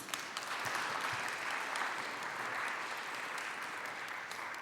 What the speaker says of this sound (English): I would like us to give them a great round of applause.